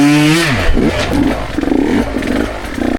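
A dirt bike engine revs high and then drops in pitch as the rider decelerates over a rut, followed by choppy, uneven engine bursts with some clatter, close and loud.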